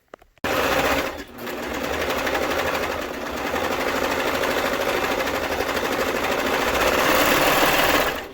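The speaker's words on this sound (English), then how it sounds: "I'm going to go ahead and serge it" A serger stitching the main seam of a fabric face mask, a loud rapid mechanical whir that starts suddenly, briefly dips, then runs steadily at close range.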